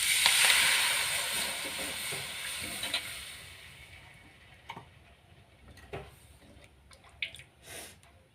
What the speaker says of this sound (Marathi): आणि आता पूर्ण खमंग झाली की त्याच्यामध्ये ताक घालत आहे